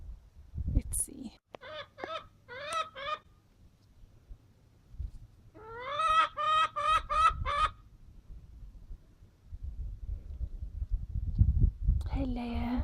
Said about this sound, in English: I don't know if she's going to go now to the box and go scream at the other chicken.